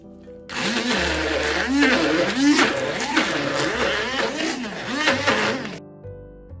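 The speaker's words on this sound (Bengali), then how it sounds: "শুটকি আর পেঁয়াজ দিয়া এখন বিসমিল্লাহ কইরা ব্লেন্ডার করিয়া নেই" A blender whirs loudly in pulsing, rising-and-falling surges as it grinds dried fish and onion, starting abruptly and cutting off near the end.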